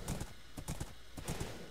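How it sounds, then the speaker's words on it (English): Horse hooves clip-clop in a steady, fast rhythm in Minecraft, loud and close, with a few sharp hoof strikes spaced through the stretch and no talk over them. "I got myself a horse."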